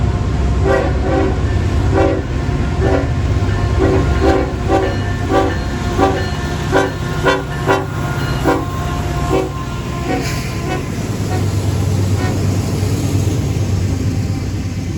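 Long Norfolk Southern freight train, more than half of it gondola cars, rolling past loud and close on a busy mainline with steady wheel rumble and rhythmic clacking, while the horn sounds in a long held blast.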